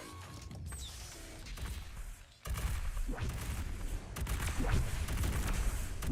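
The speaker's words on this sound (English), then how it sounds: "Star Sovereign taking shots at the Goliath" Sci-fi strategy game battle with a Star Sovereign firing on a Goliath: rapid bursts of gunfire-like shots and mechanical clanks, a brief lull then louder repeated blasts and crashes, dense and continuous.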